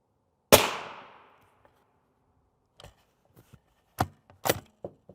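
A rifle round hits an H WIN Level III+ UHMWPE ballistic plate: one loud, sharp crack, then faint scattered clicks and thuds afterward.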